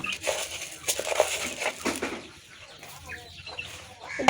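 Chickens cluck softly and busily while pecking at feed scattered in a backyard pen, with scratchy rustling and a brief flutter of wings, close by and fairly quiet, no one talking.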